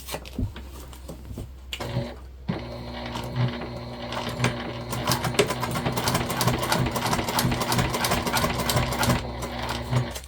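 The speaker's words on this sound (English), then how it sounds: "we're just going to continue to take our time and top stitch all the way down our panel" A sewing machine top-stitches down a waterproof canvas panel, starting with a few short bursts and then running into a steady, rapid mechanical chatter that continues to the end.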